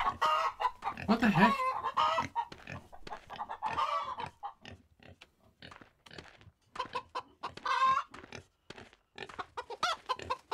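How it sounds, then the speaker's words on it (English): Roosters in the video game Wild West Dynasty cluck and crow in repeated close bursts, with a brief spoken exclamation among them. "These are all roosters."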